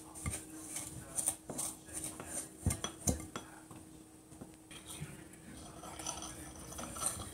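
Softened butter and sugar blended in a big bowl for chocolate brownie cookies, with a utensil repeatedly scraping and clinking against the bowl at close range, alone.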